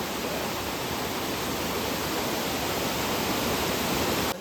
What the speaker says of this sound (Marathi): तो आहे हा दुसरा धबधबा आहे आणि ह्या धबधब्यापेक्षा हा धबधबा उंच आहे